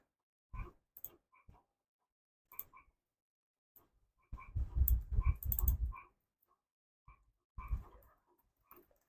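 Keys on a computer keyboard are struck while text is entered in Adobe, coming in scattered bursts of close, dry clicks with short pauses between them and one longer, denser flurry in the middle, with no voices.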